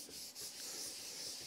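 Hand rubbing an oil finish into walnut wood, a soft continuous swishing friction, faint and close, with no talk over it.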